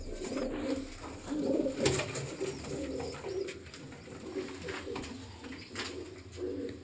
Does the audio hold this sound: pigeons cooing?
yes